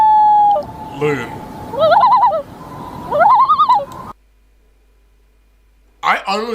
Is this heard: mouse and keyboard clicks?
no